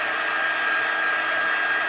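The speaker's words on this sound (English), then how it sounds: "but I'm going to hit it with the heat tool" A heat tool blows hot air to dry layered craft card, giving a steady, close, unbroken whirring hiss with no talking.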